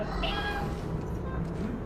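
A cat meows in a video game, a short, fairly faint cry under loud, steady game ambience, with people talking over it.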